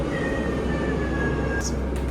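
A cat meows at a door in a home, one thin drawn-out cry, fairly faint and sitting over a steady low background noise, with a short sharper squeak near the end.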